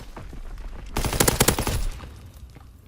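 Rapid bursts of automatic gunfire in a ranked online shooter match, a dense, loud volley in the middle after quieter scattered shots, with no talking.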